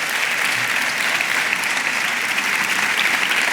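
Steady, dense audience applause at a conference talk on strange and magical books, a continuous wash of clapping with no break and no talking over it.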